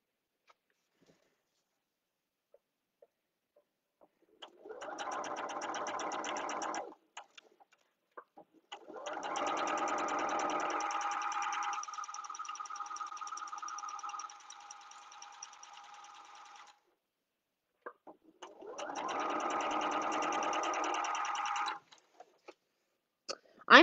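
A sewing machine stitches woven quilt-block fabric at a short seam stitch length in three steady bursts of fast, even whirring, the middle run longest, with quiet pauses between.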